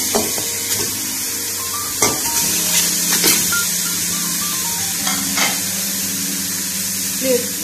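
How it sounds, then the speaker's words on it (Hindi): Mutton being added and stirred in a pressure cooker for a mutton karahi, giving a close, steady sizzle with scraping stir sounds and a few sharper clinks of utensil on metal. "सबसे पहले हम कुकर प्रेशर कुकर में डालेंगे गोश्त।"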